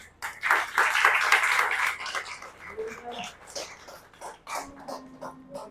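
A church congregation claps, a burst of applause that swells loudly at first then thins into scattered claps, with faint voices and a low tone underneath.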